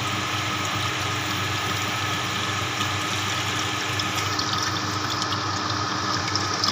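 Water poured or running into a saucepan for parsley and tofu soup, a steady loud broadband rush that lasts throughout with no pauses and no talk.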